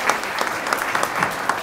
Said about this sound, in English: I would like to ask an applause for the three of them and recognize them for their presence here.